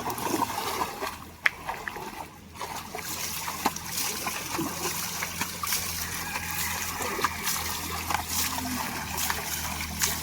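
Water splashes and trickles outdoors near Khillar bullocks, a faint steady wash of spattering with brief louder splats and a quiet low hum underneath.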